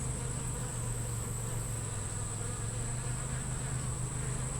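Honey bees hum steadily from an open hive with a red queen, few bees, little stores and many beetles, a continuous low drone with no voices.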